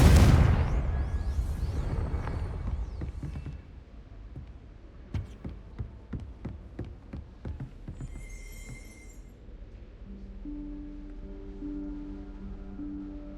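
Confringo blasting spell in Hogwarts Legacy: a loud explosive roar opens and decays over a few seconds, then a run of sharp rapid clicks and a brief shimmer, ending in soft sustained tones.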